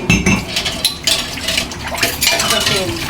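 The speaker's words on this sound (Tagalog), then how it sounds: "Hugas muna tayo ng plato para iwasan ang" Dishes being washed in a kitchen sink: close, busy clinking and clattering of plates and cutlery knocking together in quick, irregular succession.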